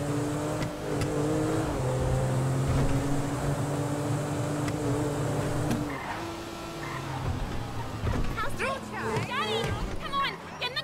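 A car drives in the video game GTA V, engine droning with brief tire squeals and skids, while characters talk over the driving.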